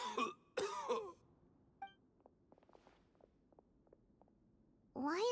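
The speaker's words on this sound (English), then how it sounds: "Why is he coughing so much?" A character in the Genshin Impact video game coughs in a few harsh, close bursts at the start, followed by quiet game sounds and soft tones, then another strained coughing fit at the end.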